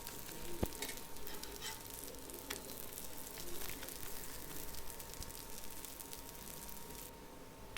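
A sweet oppittu (poli) flatbread roasting on a hot pan gives a soft, continuous sizzle and crackle. It is steady and close, with no talking.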